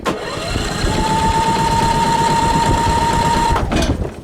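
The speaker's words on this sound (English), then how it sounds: "Let's see if it'll just start with no choke." A small engine, tried for a start without choke, turns over with a steady loud whirring drone and a sustained mid-pitched tone for about three and a half seconds, then cuts off abruptly.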